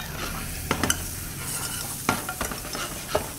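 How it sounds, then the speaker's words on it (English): Shallot sautéing in butter in a pan, with a continuous sizzle and crackle broken by a few sharp clinks and scrapes of a utensil stirring, close and alone, without talk. "You have to saute the shallot a little bit."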